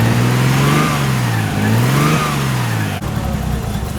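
Nissan R32 Skyline drift car engine revving up and down in two close rising-and-falling sweeps, loud and near, then settling into a rough idle.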